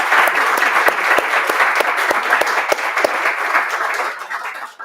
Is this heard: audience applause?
yes